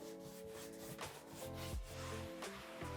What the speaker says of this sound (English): just go over with another coat of wax there